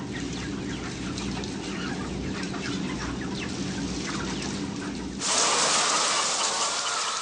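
Battery hens cluck steadily in a crowded indoor shed, a dense continuous layer of many birds close by, with a brief louder hiss-like surge near the end.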